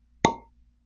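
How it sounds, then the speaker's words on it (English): A single crisp, hollow pop as the cork is pulled from a bottle of Green River wheated bourbon, close and short with a quick ringing decay. "Let's get that cork pop"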